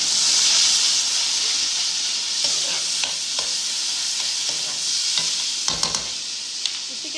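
Yogurt is stirred into a potato curry frying in a pan, giving a steady loud sizzle and hiss with scattered spoon scrapes and clinks over it.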